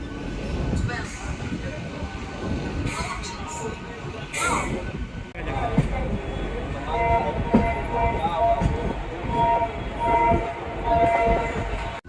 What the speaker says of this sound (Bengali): তো আমাদের ট্রেন হাওড়া থেকে ছেড়ে দিয়েছে আজকে উঠেছি আমরা হচ্ছে কাটোয়া লোকাল